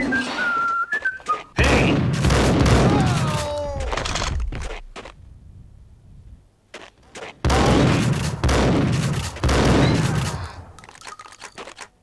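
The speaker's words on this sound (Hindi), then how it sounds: "तीन गोलियां शॉर्ट गन की" Shotgun blasts ring out in the PC game Max Payne, loud booming bursts in two clusters separated by a short quiet gap, with whistling tones and other game effects around them.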